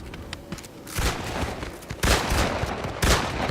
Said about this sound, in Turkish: bu oyundaki en sevdiğim pompalı tüfek olabilir